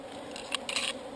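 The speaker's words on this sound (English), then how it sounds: "these wasps, look at these things" Faint wasp buzzing drifts past at close range in a bee yard, with a couple of brief, brighter flickers of wings against a quiet background.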